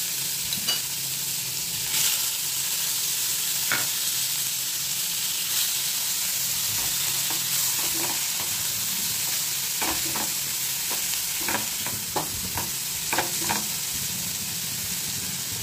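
Onion paste frying in a pan over a low flame, a steady soft sizzle with scattered stirring scrapes and clicks clustering toward the end, close and continuous with no talking.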